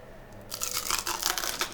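Crisp crunching of a bite of seared Wagyu or Angus steak topped with crispy rice, close and fairly loud, a rapid run of crackly bursts after a brief quiet start.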